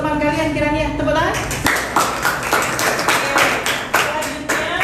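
Classmates in a school classroom clap for a fellow student, a short burst of sharp, uneven claps that starts after a teacher's voice and continues in scattered, distinct hits close by.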